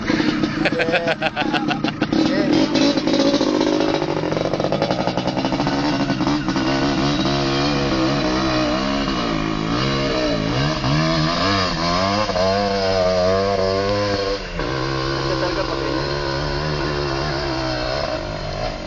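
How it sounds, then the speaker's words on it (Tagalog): A loud motorcycle engine revs and drones continuously on a trail race, its pitch rising and falling, with other engine noise layered throughout. "Malakas motor ni Renner tinira niya si Gondo."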